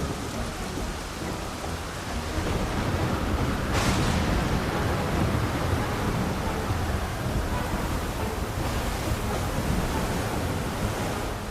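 Stormy ocean waves crashing in the video game Final Fantasy XIV, a loud continuous roar of surf and rain-like wash with a heavier surge partway through.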